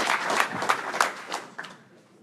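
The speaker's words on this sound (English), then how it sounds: "I'd like to just give you a round of applause for coming out" An audience at an athletic hall of fame induction ceremony gives a brief round of clapping, a handful of distinct claps fading quickly and sounding somewhat distant.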